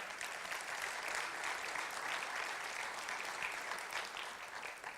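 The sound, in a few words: church congregation applauding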